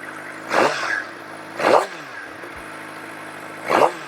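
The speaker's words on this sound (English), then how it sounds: "you can actually hear the engine more." Three short revs from a Suzuki GSX-R600 with a Yoshimura Alpha slip-on exhaust, each a quick rising blip, separated by quieter idle rumble.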